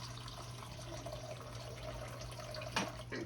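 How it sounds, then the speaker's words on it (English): Juice poured slowly from a container into a bowl sitting in a kitchen sink, a soft continuous trickle with faint splashes over a low steady hum, no speech. "I'm gonna pour this juice slowly but surely"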